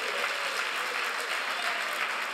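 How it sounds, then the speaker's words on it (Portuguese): A congregation applauds steadily in a dense, continuous wash of clapping during a church service, even and sustained from start to finish. "Pode dar um aplauso a Jesus"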